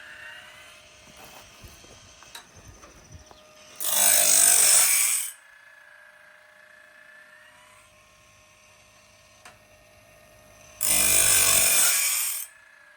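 A sawmill blade sharpener on a Woodland Mills HM130 grinds in two loud, harsh bursts a few seconds each, over a steady low machine hum.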